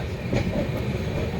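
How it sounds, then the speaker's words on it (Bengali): Puri–Sealdah Duronto Express running at speed, heard from inside the coach: a steady rumble with rhythmic clickety-clack of wheels over rail joints, continuous and fairly loud, no talk. "এই মুহূর্তে আমাদের ট্রেনটা প্রায় 9 মিনিট লেটে চলছে।"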